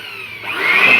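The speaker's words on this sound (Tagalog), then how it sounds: "Blower na lang natin." A blower clears dust and sand from a rooftop being skimcoated, its loud motor whine rising in pitch as it spins up, close by.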